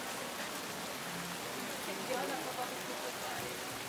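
Rain falls steadily on wet streets in Jiufen, Taiwan, a soft, even hiss of drops pattering on surfaces without letup, heard close at moderate loudness.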